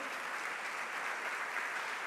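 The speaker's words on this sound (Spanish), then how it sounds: "¿Por qué no le da un aplauso al Señor?" A church congregation applauds during a Spanish-language sermon, a steady wash of many hands clapping at even, moderate loudness that fills the short moment without a break.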